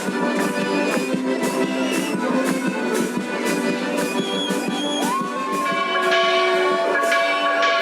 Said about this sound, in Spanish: Las campanas anuncian la llegada del cristianismo.